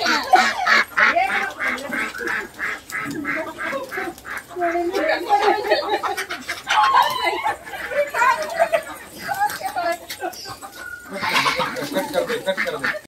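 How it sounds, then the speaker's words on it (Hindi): Ducks quack repeatedly on a farm where they have been let out, a busy run of nasal calls mixed with other animal sounds, with people talking throughout. "सारे बत्तख बत्तख बाहर निकाल रखी है,"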